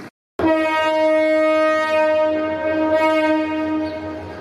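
A loud, sustained train horn blares close by after a brief silence, holding steady for several seconds over the rumble of the passing Kalni Express in Sreemangal.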